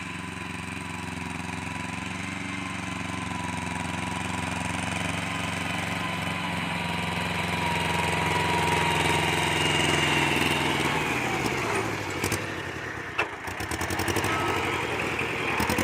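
A two-cylinder tractor engine idles steadily at a low, chugging rumble for a long stretch, with a few clanks and rattles near the end.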